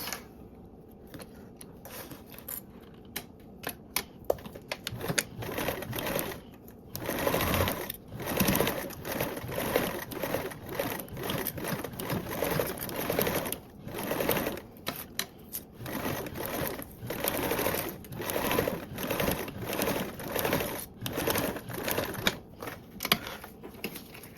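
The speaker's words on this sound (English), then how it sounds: "sew around my mesh with a 1/8 seam allowance" A sewing machine stitches elastic band onto mesh with a small seam allowance, running in repeated rapid mechanical bursts separated by short pauses, close and fairly loud.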